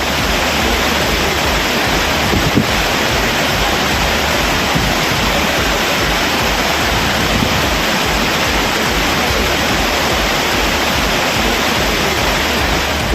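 Flash flood water roaring down the Courtallam waterfalls after heavy rain, a dense, steady broadband rush that holds at full loudness throughout with no voices.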